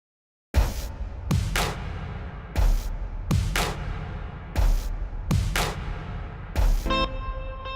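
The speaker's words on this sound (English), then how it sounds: "loopy sounding drum beat" A looping drum pattern repeats steadily, with heavy kick-and-cymbal hits recurring about every second, full and busy, with no voices.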